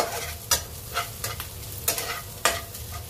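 Onions brown in a pan for bitter gourd sabzi, frying with a constant sizzle while a spatula scrapes through them in sharp strokes roughly every half second to second.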